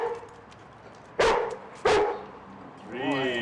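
A dog barking to answer a trick arithmetic question, two sharp, loud barks about half a second apart, followed by a person speaking briefly at the end.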